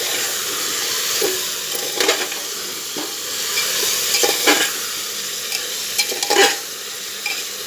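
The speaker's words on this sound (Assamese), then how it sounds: "এইখিনি লৰাই পেলাই মই ভাজি ল'ম" Spices and meat fry with a steady sizzle in a pot as biryani is prepared, with a spoon stirring and scraping in intermittent bursts close by. No one speaks.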